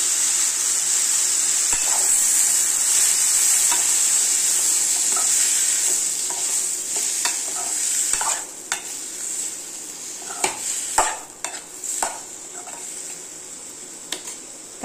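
Chopped tomatoes frying in a pan with already-softened onions for a tomato chutney: a steady close sizzle at first, then stirring scrapes and clinks that become more frequent.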